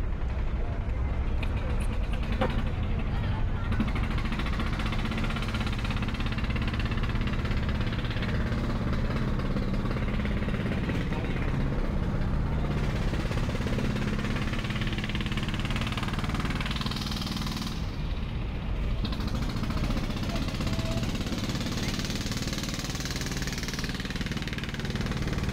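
Engine of the MV Manami, a passenger launch on the Barisal-Dhaka river route, a steady loud low drone with mechanical knocking running continuously throughout, with no pauses.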